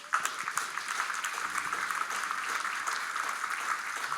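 A church congregation claps together in a sustained, even wash of applause that stays fairly loud and steady throughout.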